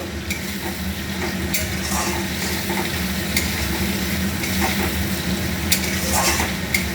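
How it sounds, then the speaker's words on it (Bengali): Fried potatoes stirred into a cooked spice masala in a pan for a fish curry: a steady loud sizzle with scraping stirring strokes and occasional clinks of the utensil against the pan. "এবার আমি আমার ভেজে রাখা আলুটা দিয়ে দিলাম একটু নাড়িয়ে নেব"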